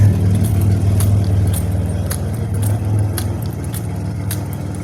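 A 2007 Pontiac Grand Prix with a ZZP XPZ cam idles steadily while warming to operating temperature, a close, loud, continuous low engine rumble with a faint lopey pulse and light ticking above it.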